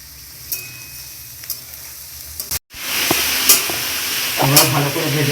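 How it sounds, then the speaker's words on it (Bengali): Boiled young jackfruit pieces dropped into hot oil in a pan, a loud sizzle that bursts up and keeps hissing steadily, with stirring clatter. "এবার তেল গরম হয়ে গেছে, গরম তেলের মধ্যে আমি সেদ্ধ করা এঁচোড়গুলো ছেড়ে দিচ্ছি"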